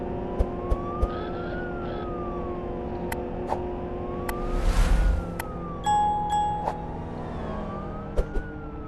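Wailing police car siren in a driving video game, rising and falling in steady sweeps over a constant engine drone, with a few short chime dings and a brief louder whoosh midway.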